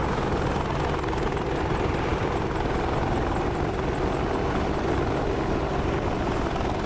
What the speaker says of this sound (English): This is a fun helicopter to fly. I really enjoy flying the Apache.